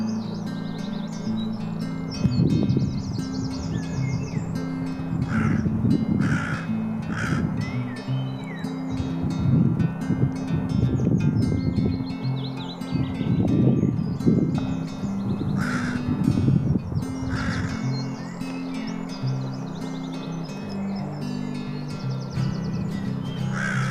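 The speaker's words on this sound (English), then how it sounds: "The last type of crow I have is the hooded crow" Hooded crow calling in a garden setting, a series of harsh, rasping caws repeated in loose bursts at moderate distance, with faint chirps from other birds and steady low outdoor background noise throughout.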